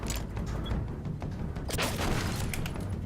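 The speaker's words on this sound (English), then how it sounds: "It just effectually fire and create small explosions at our feet." Weapon fire in the game Regretroid sets off a series of small explosions, heard as repeated sharp bursts and thuds at irregular intervals over a rumbling game background.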